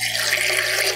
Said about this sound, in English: And I'm going to put 100 mils of water.